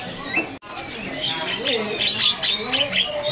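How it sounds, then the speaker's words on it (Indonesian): Local sooty-headed bulbuls (kutilang) at a bird market stall give bright, warbling chirps and whistles that repeat throughout, mixed with other caged birds, while someone talks underneath. "Di depan kita ini ada burung kutilang lokal nih, ya."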